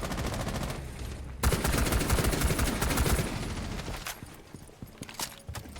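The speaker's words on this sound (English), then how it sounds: "just in case anyone wants to peek it now after hearing the gunshots" Rapid bursts of gunfire from a first-person shooter game fire loud and continuous, a dense fusillade that cuts in sharply partway through and then tapers into scattered single shots.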